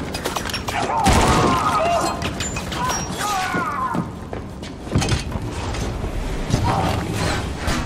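Gunfire in Wolfenstein II: The New Colossus, mechanical clanks and sharp bursts with crashing impacts, loud and close, partly under voices.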